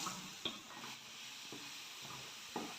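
Ground coconut sizzles in ghee in a frying pan, a faint continuous hiss broken by soft stirring scrapes and a few small clinks at intervals.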